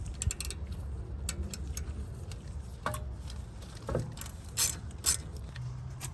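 A set screw is turned into a BMW rear brake rotor, heard as a quiet run of small ratcheting clicks and light metallic ticks, close and sparse in a still room.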